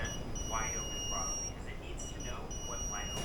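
Intermittent electronic beeping from the error alarm of a Husqvarna E5.5 unit on its first start-up, thin high tones repeating steadily over a constant background hum, with no talking.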